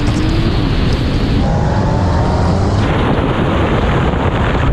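Porsche 911 Turbo cars in a drag race, engines roaring hard under heavy wind buffeting on the microphone, with the engine note dropping twice in step-like shifts as speed builds.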